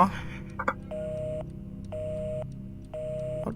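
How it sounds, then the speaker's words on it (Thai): An old-style telephone in the horror game Evil Inside sounds a steady beeping line tone, three evenly spaced half-second beeps repeating about once a second, with someone talking over the first part. "โทรศัพท์แบบอย่างนี้เขา มีเสียงอย่างนี้กันด้วยเหรอ แบบตู้ตู้อะไรเงี้ย"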